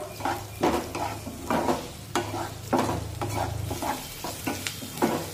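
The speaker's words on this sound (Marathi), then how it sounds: "कांदा परतत असताना कांद्याला सतत परतत राहायचं" Onion sautéed in a pan for oats upma, a soft continuous sizzle broken by repeated scraping stirs of a spoon against the pan, regular and close, with a low hum beneath; nobody speaks.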